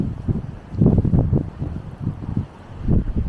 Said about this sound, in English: Like I said, it's kind of windy.